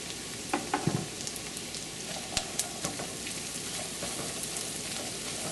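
Carrots sauté in a pan with garlic and vegetables, giving a steady close sizzle and hiss broken by a few sharp clicks and taps of stirring near the start.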